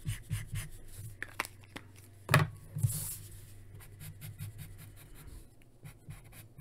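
A pencil scratches lines across paper while drawing Darth Vader, in short close strokes with quiet gaps and one louder scrape partway through.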